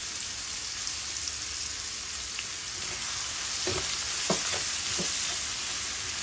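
Sliced onions frying in a pan for king prawns bhuna, a loud continuous hiss of hot oil with a few stirring knocks near the end, close up and with no voices.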